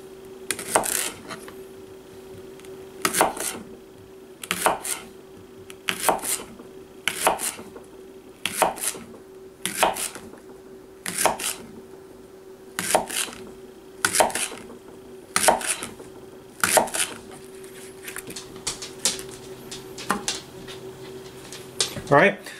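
A Kershaw Brawler knife chops food on a board for making shabu shabu hotpot, with sharp, evenly spaced knocks in short clusters, close and crisp over a faint background hum.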